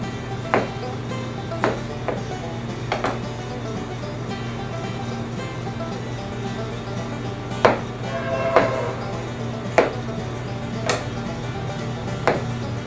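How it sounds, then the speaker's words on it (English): Knife cutting peeled potatoes into even quarters on a board, a series of distinct, irregularly spaced chops over a steady low hum. "you want to go ahead and cut them in as even a pieces as possible"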